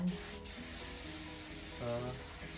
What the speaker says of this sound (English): you spray this one with oil to not to stick your fork on the pan